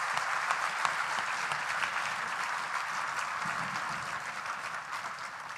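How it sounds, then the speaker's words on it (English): Graduates at an IIM Rohtak convocation ceremony applaud their families and faculty, a steady, dense wash of clapping from a large audience that holds evenly throughout and fades slightly toward the end. "So I'd like the graduates to give your family and your faculty a huge round of applause to thank them."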